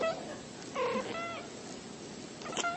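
Two calm, relaxed cats in a video being played back, trading soft, drawn-out meows in a few separate calls over a steady hiss of background noise, with no voices.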